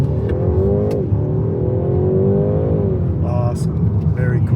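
A BMW 228 Gran Coupe with a seven-speed dual-clutch transmission pulls away from a stop, its engine note rising steadily and dipping through a gearshift, heard from inside the cabin with a voice briefly talking over it.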